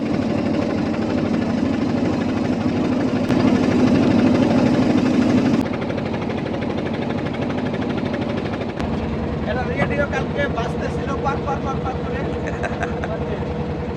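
A steady low engine drone from a river trawler runs close and continuous throughout, with a brief louder stretch early on and chattering voices over it toward the end.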